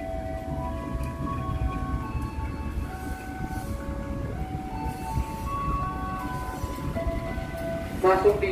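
A local train led by an LH-facing locomotive rolls into Kerenceng station, a steady close rumble with sustained tonal whine, and a brief sharper burst near the end.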